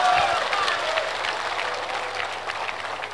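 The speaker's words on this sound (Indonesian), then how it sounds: "Kalian enak aja tepuk tangan" Audience clapping at a religious question-and-answer gathering in Silau Laut, Asahan, North Sumatra, a steady wash of hands that starts louder and slowly fades, with faint voices mixed in.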